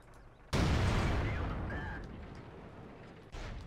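Tank cannon fire in World of Tanks: a sudden heavy boom that rolls out and slowly decays over a few seconds, then a second, quieter blast near the end.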